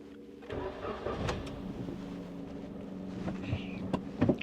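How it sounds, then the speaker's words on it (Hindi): A 2019 Suzuki Cultus engine cranks and starts, then settles into a smooth, low idle, with light clicks and rattles near the end. "तो चलें जी, इसे स्टार्ट करते हैं और मैं आपको इसका स्टार्टअप भी जल्दी से दिखा देता हूँ।"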